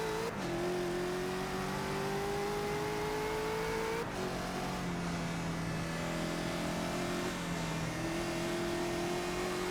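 Race car engine in a racing video game lapping the Nürburgring Nordschleife, a steady synthetic drone rising through gears with small pitch drops at each shift, constant and up front with no talk.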